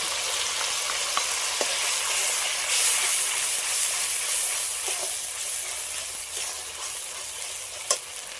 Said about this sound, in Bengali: এবার দিয়ে দেবো পেঁয়াজ কুচি এবার বাটা মশলাটাও দিয়ে দেবো পেঁয়াজটা একটু হালকা করে আমি ভেজে নিয়ে